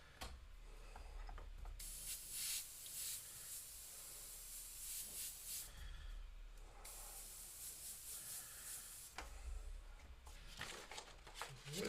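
An airbrush sprays paint in steady hissing bursts during a live freehand session on a Cad Bane figure, the bursts starting and stopping every few seconds at close range, with no talk.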